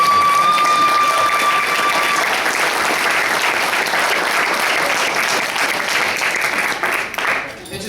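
Wedding guests at a reception applaud during a best man's speech, a loud, dense round of clapping with some cheering that holds steady for several seconds, then thins and fades at the end.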